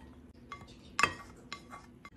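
Noodles stirred with soy sauce and sugar in a bowl, a few sharp clinks of utensil against the bowl, one louder knock near the middle, close and alone.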